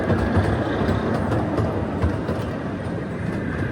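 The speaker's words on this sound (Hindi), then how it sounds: "ये ब्रिज से ट्रेन जा रही है आराम से" A safari park ride train rolls slowly across a bridge, a continuous rumbling roar with soft rhythmic clatter throughout.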